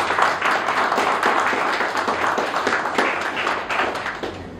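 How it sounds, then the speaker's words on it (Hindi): A crowd at a dairy equipment company event applauds for a guest in steady, dense clapping that holds loud and even for the whole stretch, with no voices over it. "ये हमारे जो प्रदीप सर हैं, क्या इनके लिए एक ताली नहीं होनी चाहिए?"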